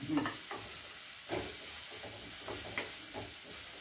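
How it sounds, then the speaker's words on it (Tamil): Ginger paste and asafoetida sauté in a pan for a moong dal adai snack, a steady soft sizzle broken by a few light stirring scrapes, close and fairly quiet with no talking. "எல்லாம் வதங்கணும்"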